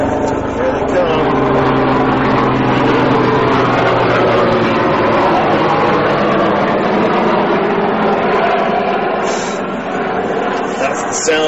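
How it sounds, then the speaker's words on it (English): Helicopters fly overhead with a loud, steady engine and rotor roar that fills the whole stretch without easing, and a voice talks faintly underneath. "Here comes the choppers, babe."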